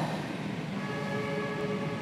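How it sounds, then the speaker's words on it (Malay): A lorry horn blares with a sustained, steady tone that begins partway through and holds over a continuous low traffic rumble. "Hon lori, hon lori."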